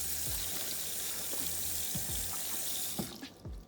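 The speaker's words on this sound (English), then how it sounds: "So we're going to wash the peppers." Tap water runs steadily into a sink as peppers and mushrooms are washed under it, a close, continuous splashing hiss with a few soft knocks, then trailing off at the end.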